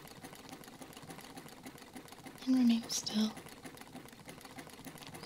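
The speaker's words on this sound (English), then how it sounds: "using his sewing machine, he'll stitch an amazing portrait of your face" A sewing machine stitches a portrait at a busy event, a fast, steady mechanical chatter running throughout beneath a brief spoken phrase and faint background voices.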